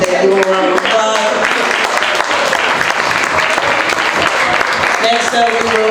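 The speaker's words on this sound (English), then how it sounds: "Give a round of applause." Loud, dense applause from a crowd at a DJ music conference panel, sustained clapping close to the recorder with some voices and background music audible underneath.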